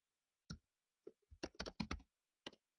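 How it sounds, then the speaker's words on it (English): A web link being keyed in on a computer keyboard: a few isolated key presses followed by a quick cluster of close, crisp clicks and one last tap, in an otherwise quiet room. "I'll type in that link one more time for you."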